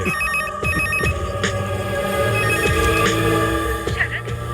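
A telephone rings with repeated electronic trills in short bursts, loud and close over a busy background of music and effects.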